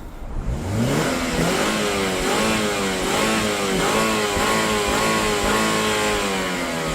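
An Opel Vectra C car engine revs and runs roughly, its pitch rising and falling unevenly in a steady close drone with no talking.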